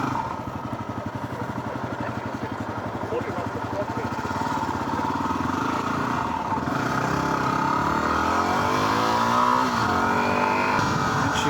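A motorcycle engine revs high and steadily, loud and continuous near the rider, with the pitch rising and wavering toward the end; faint talk may sit beneath the engine noise.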